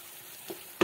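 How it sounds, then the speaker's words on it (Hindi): Tomatoes frying in a pan for mushroom biryani, a low steady sizzle with a soft stir midway and a louder burst of crackling at the end. "टमाटर को भी हम अच्छे से भून लेंगे, सॉफ्ट कर लेंगे।"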